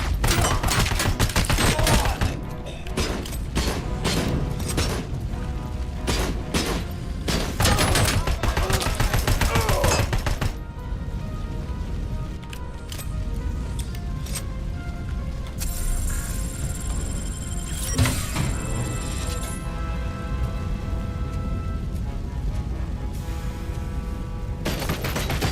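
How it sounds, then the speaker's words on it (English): Rapid bursts of gunfire aimed at the player in the RoboCop video game, dense crackling volleys through the first half, then sparser shots with electronic game tones, loud and close. "Who's shooting at me? Who's shooting at me?"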